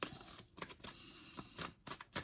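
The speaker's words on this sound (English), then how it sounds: "I just do a little shuffling on camera" An oracle card deck is shuffled by hand, giving close, quiet riffling bursts in a loose rhythm of about five quick flurries.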